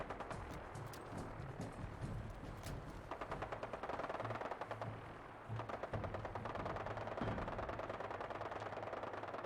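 Enemies fire at the player in Fallout 4, a distant, fairly quiet rattle of automatic gunfire in dense bursts that runs almost continuously beneath game ambience.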